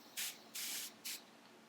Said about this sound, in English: It's the continuous spray bottle, by the way.